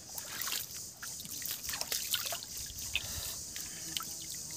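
A forest stream trickles and babbles steadily, a gentle continuous flow of water at moderate distance with small splashes, no talk over it.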